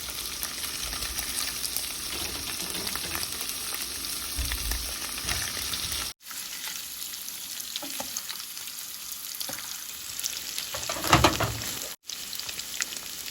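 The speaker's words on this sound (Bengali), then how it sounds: "হালকা তেলে পনিরগুলো ভেজে নেব।" Paneer pieces frying in a little oil hiss and crackle steadily at close range, with occasional scrapes and a couple of abrupt breaks in the sound.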